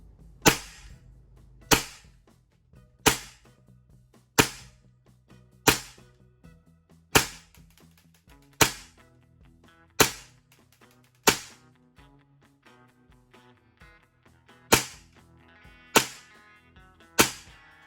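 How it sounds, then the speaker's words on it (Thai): Hi-Capa 5.1 T-REX gas blowback airsoft pistol with silver slide, made by WE Taiwan, test fired in about thirteen sharp, loud single shots at a steady, unhurried pace, each crack followed by a short metallic ring, with no talking. "มายิงเทสกันครับ บรรจุแมกกาซีนครับ นี่นะครับเราจะพร้อมยิงแล้ว แต่นี้เซฟอยู่ เริ่มยิงได้ครับ"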